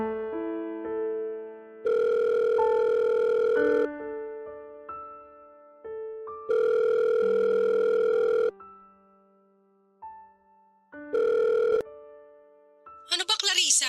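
A telephone rings late at night in three electronic tonal bursts separated by pauses, clear and close, with a voice starting at the end.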